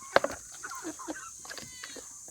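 Farm chickens, grown fairly large, cluck faintly and sporadically, with a couple of sharper calls near the start and soft scattered clucks after.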